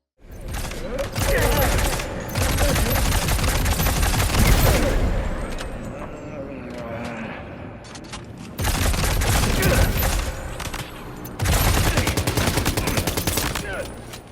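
Heavy gunfire in Death Stranding 2 combat, with loud sustained bursts of rapid automatic shots in several long volleys separated by brief quieter gaps with scattered single shots.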